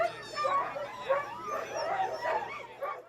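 Sled dogs from a racing team yip, whimper and bark in a rapid, overlapping chorus, moderately close, with a steady low hum underneath.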